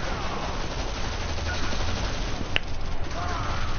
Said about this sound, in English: Wait, they added a Tommy gun to this game?